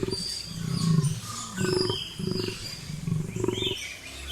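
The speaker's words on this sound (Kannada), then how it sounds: "ಆಳುತ್ತಿದ್ದನು ಶಕ್ತಿಶಾಲಿ ಸಿಂಹ ಪಿಂಗಲಕ, ಎಲ್ಲಾ ಪ್ರಾಣಿಗಳ ಅಧಿಪತಿ ಮತ್ತು ಕಾಡಿನ ಶಾಂತಿಯ ರಕ್ಷಕನು." Lion roaring in a forest: a series of deep, throaty roars in rhythmic bursts, loud and close, with no speech.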